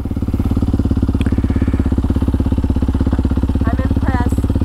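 A Kawasaki KLX 230SM motorcycle idles just after starting, its steady single-cylinder putter loud and close throughout, with faint voices briefly over it.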